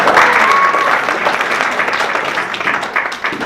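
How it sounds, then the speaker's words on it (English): An audience at an evening talk breaks into a dense round of applause, many hands clapping loudly and steadily before it starts to thin out. "give yourselves a round of applause for that"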